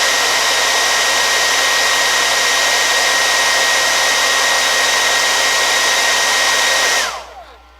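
A hair dryer blowing hot air onto an eyelash curler, a loud steady whooshing hum with a constant whine, running close for several seconds before switching off and winding down.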